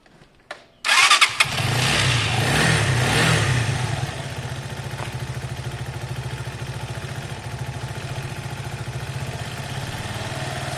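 A Keeway motorcycle engine cranks and fires after a short quiet lead-in, roars briefly at higher revs, then settles into a steady, close, rhythmic idle with the choke off.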